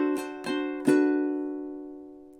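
Ukulele strumming a Hawaiian song, Loke Lani: a down strum, a quick triplet flourish, then a final down strum that rings out and fades, close and fairly soft with no voices.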